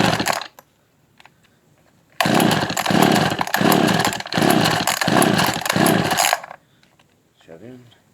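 An Echo 280e chainsaw, unused for 10 years, roars to life after a few pulls and runs loudly for about four seconds with uneven revving before cutting out, followed by a faint voice.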